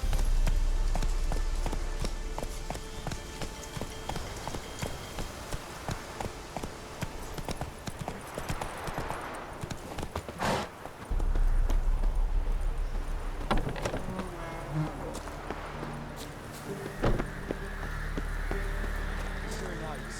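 Roach, a horse in the video game The Witcher 3, clip-clops steadily at a gallop across the whole stretch, its hoofbeats close and prominent beneath game music, with voices speaking over parts of it.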